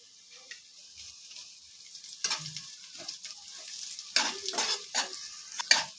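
Chopped garlic and green chili frying in a pan, a soft broadband sizzle with scraping stir strokes that grow louder toward the end, no talking.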